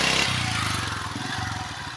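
A motorcycle engine runs nearby with a steady, throbbing low idle that shifts slightly in pitch, fairly loud throughout and heard alone.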